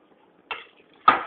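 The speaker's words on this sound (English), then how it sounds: "now I'm going to add the banana stem pieces to it along with the water" Banana stem pieces and water go into a pot of curry, heard as two short metallic clatters against the pot in a quiet kitchen.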